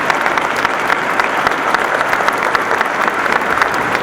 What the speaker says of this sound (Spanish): Solo sí pedirles un muy fuerte aplauso para todos los que me acompañaron en esta mesa.